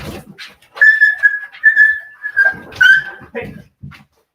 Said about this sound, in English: See, I told you the dogs were going to wrestle it out.